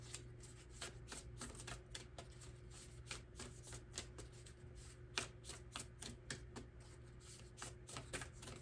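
A deck of Starseed oracle cards is shuffled close up in quiet, rapid rhythmic riffles and flicks repeating steadily for several seconds, with no talking.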